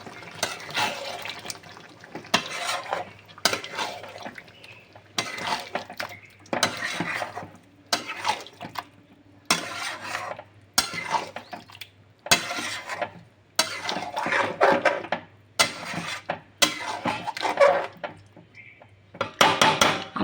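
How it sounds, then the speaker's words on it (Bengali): A spoon stirring coriander chicken with spices in a pot, giving repeated bursts of scraping and clattering against the metal separated by short pauses, close and clear with no talking. "এই সমস্ত কিছু আবার মশলাগুলো দেওয়ার পর আবারও আমি নাড়াচাড়া করে নিলাম।"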